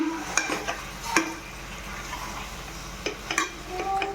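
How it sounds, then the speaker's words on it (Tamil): Chicken is stirred into biryani in a pot, giving a few scraping, clinking strokes of a spoon against metal over a low background hiss, with pauses between the strokes. "இதில் சிக்கன் ஆட் பண்ணிக்கலாம் பிரியாணிக்கு கிண்டி விட்டுக்கலாம்"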